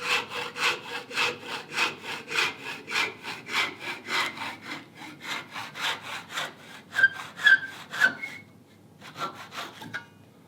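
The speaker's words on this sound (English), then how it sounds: "So just take your saw, go right in between your two knife walls." A hand saw cuts a wood dovetail between knife walls in steady back-and-forth strokes, close by, the rhythm slowing near the end with a few squeaky scrapes.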